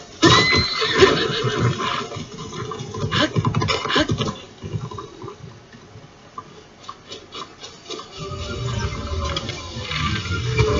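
Horses whinny and neigh loudly in The Legend of Zelda: Breath of the Wild over clattering, busy noise, with a quieter stretch in the middle before the commotion builds again.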